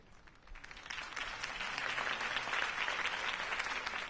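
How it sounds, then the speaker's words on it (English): Crowd applause after a campaign speech by Harvey Dent in a Batman video game, steady dense clapping that swells within the first second and holds loud and continuous throughout. "If only Mr. Wayne, my campaign's largest backer, could have heard that applause"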